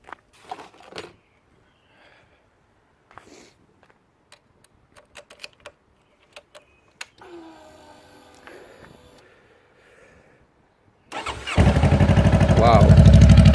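A 2015 Honda CBR500R fitted with a Coffman's slip-on exhaust cranks and fires up near the end, a loud roaring start after scattered clicks, ticks and quiet handling sounds.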